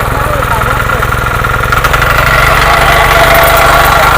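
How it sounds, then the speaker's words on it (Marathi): A tractor pulling a plough runs steadily and loud throughout, its engine drone thickening into a harder, busier roar after the first couple of seconds as it starts working the field, with voices talking over it. "मयूरने दळणांगरू स्टार्ट केला ना हे बघा हे फास्ट ट्रॅक्टर"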